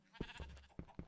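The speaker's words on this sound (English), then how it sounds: "The sheep joined us down here." A Minecraft sheep gives a couple of short, quiet bleats, close by and brief, with soft game sounds around them.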